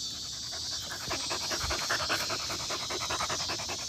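Sadie, a dog, pants steadily in fast rhythmic breaths outdoors in a yard on a hot day, close and continuous with no talk.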